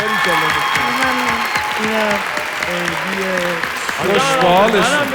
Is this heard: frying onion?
no